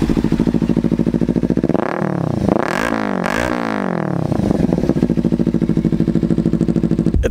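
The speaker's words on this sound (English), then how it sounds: "One of the first things that I did was this Hot Bodies MGP exhaust, the growler as it's called." A Kawasaki Ninja 300 motorcycle fitted with a Hot Bodies MGP exhaust idles with a fast, loud pulsing burble, then revs up sharply twice in rising and falling sweeps before settling back to idle, close up.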